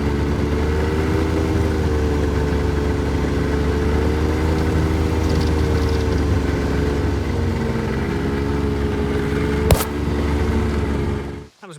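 A snowmobile rides through an arctic forest, its engine a steady, loud mid-pitched drone with a slight wavering in pitch, heard up close throughout, with one brief knock near the end before it cuts off.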